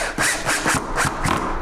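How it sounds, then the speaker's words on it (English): A Makita cordless drill driving in, its motor whirring in short repeated pulses about every third of a second, loud and close with no talking. "What this is going to do, of course, is just do some like a traditional drill."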